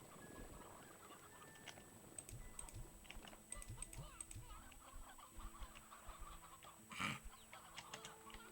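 Chickens called briar hens in the video game Slime Rancher 2 cluck and murmur in a continuous flock, with rapid keyboard typing and clicking mixed in throughout.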